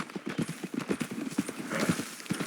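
Horse hooves clip-clop at a steady gallop in Red Dead Redemption 2. The beats are quick and close, and a faint whinny-like tone sits underneath without any talk.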